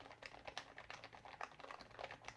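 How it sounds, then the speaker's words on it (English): Rapid, continuous typing on a Cooler Master SK650 low-profile mechanical keyboard with red switches, a quiet, soft clatter of closely spaced keystrokes with no voice. "I'm just typing like crazy."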